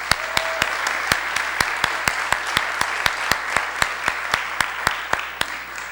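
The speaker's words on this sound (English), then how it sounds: "offering a big round of applause to all these candidates" Audience applause for city council candidates at an evening candidates forum, with steady, evenly spaced loud claps repeating through the whole stretch over a dense wash of clapping from the crowd.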